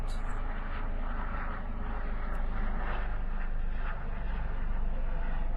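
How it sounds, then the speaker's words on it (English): A fixed-wing airplane drones steadily overhead, a broad continuous engine rumble that holds level for several seconds with no talk over it. "There's an airplane there."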